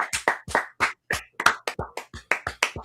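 A few sharp, separate hand claps ring out in an uneven rhythm, close and distinct, like a small group giving a brief round of applause during a live Q&A.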